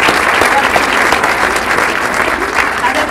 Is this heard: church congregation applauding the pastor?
yes